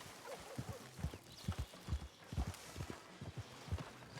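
Horse hooves clop at a walking pace in a video game, a run of soft, irregular thuds close by over faint background ambience.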